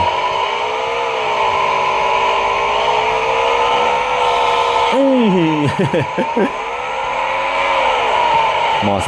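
Engine drone of a vehicle being driven in PUBG Mobile on a Samsung A52, a steady whine that rises and falls in pitch as it speeds up and slows, loud and close throughout.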